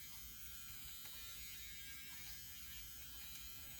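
An electric face shaver runs steadily along the edges of the face, giving a faint, continuous close buzz with no voices over it.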